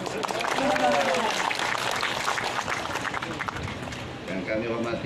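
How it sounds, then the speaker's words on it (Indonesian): Applause from an audience at an official agricultural ceremony in Matajang village, Bone, Sulawesi, a dense patter of clapping that stays fairly steady, with voices and crowd chatter mixed in. "Kecil tepuk tangannya."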